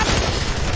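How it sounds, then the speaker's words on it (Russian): An explosion in the video game F.E.A.R. 3: a dense, loud broadband blast with a rumbling low end that fills the moment without letting up, and no voices present. "Взрыв."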